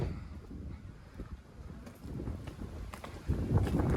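Wind gusts roar steadily across the microphone, low and rumbling, swelling louder near the end.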